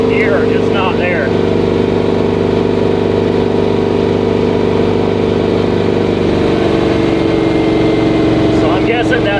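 A 1000hp 1959 Rambler engine labours on a test drive with a loud, continuous, rough drone that barely changes pitch. Brief voices sound near the start and end.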